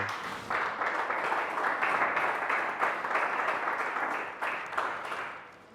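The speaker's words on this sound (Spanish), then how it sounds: "Dale un fuerte aplauso a Cristo." Sustained applause from a church congregation fills the space, a steady wash of many hands clapping for several seconds that tapers off near the end.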